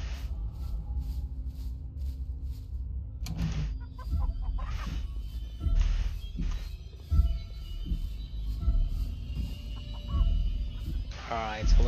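A chicken clucks in short repeated bursts at moderate distance while a person talks intermittently over it.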